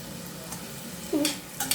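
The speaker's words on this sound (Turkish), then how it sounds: "Yağımız ısındı. Şimdi soğanı ilave ediyorum." Chopped onion hits heated oil in a pot for Turkish red lentil soup, giving a steady close sizzle with a couple of brief clinks and stirring bursts near the end.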